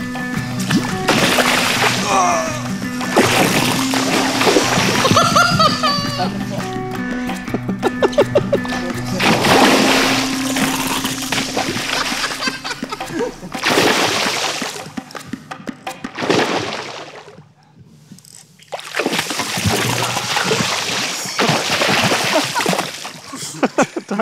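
Tarpon of around 15 pounds splashing among mangroves in a remote Cuban jungle lagoon, a series of loud, close bursts of splashing and sloshing water spread across the clip, with brief quieter gaps between them.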